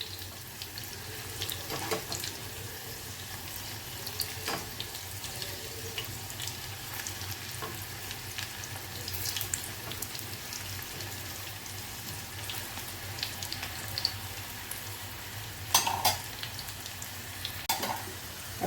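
Soya chunk pakoras fry in oil and are turned over, giving a faint, steady hiss with a few soft scrapes and clinks from flipping, heard alone without talking.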